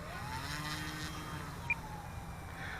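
An RC plane with an E-flite 60 size electric motor taxis out on the ground, a faint steady motor whine over continuous outdoor background noise, distant and even throughout.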